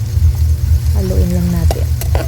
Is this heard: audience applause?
no